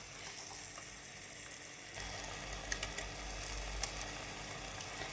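Prawns for a prawn gravy sizzle in a pan as they are stirred. The frying is moderately quiet and grows fuller partway through, with occasional scraping clinks from the stirring.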